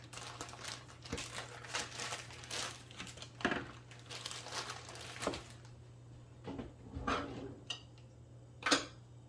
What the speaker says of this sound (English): We're going to start by putting in a ½ cup of brown sugar.